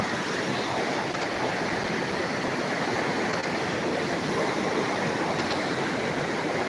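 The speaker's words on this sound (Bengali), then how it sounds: "আর পানির শব্দ দেখতে পাচ্ছেন পানির শব্দ" Rushing water in Uttarakhand makes a continuous, dense roar that stays at an even level from start to finish, with no breaks and no voices.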